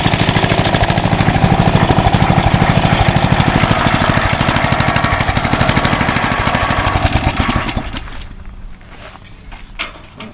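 A homemade off-grid cement mixer runs with a loud, fast mechanical clatter and a rhythmic knocking. It keeps going steadily for about eight seconds, then winds down into quieter knocks.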